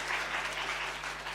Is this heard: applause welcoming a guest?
yes